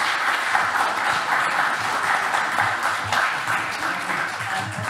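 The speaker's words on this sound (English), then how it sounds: "Let me ask you for applause for them" Steady, dense applause from a conference audience at a city museum event fills the room at full volume without a break, many hands clapping together with no voices standing out.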